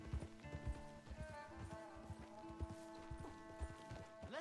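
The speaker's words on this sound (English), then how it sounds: "Let's leave the horses off the road to the right here." Horses in the video game Red Dead Redemption 2, hooves clip-clopping at a walk in an irregular rhythm, fairly close, with a faint tonal background score and little other sound.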